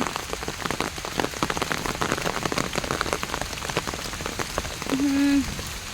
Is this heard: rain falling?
yes